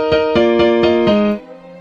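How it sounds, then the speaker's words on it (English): A software piano plays a melodic lead pattern copied from a synth line, with five evenly spaced, bright struck notes ringing over one another before the final note is cut short, leaving a faint tail. "I'm going to use one of their piano options because they have really accurate pianos"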